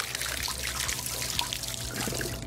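Ice water poured over a Goo Jit Zu squishy toy, a steady close trickle and splash of liquid running continuously without talk.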